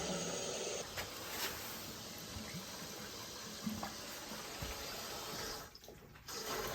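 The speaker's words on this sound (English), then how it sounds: "I hear water running." Well water running through PEX pipe into a bucket on an off-grid homestead, a steady continuous rushing splash that briefly dips and sputters near the end, heard close with no talking.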